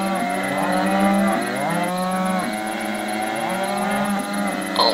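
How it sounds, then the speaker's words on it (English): Cattle mooing in the video game WolfQuest: several long, loud, overlapping moos drawn out continuously, close by, over a high steady game tone, without talk. "why they moo?"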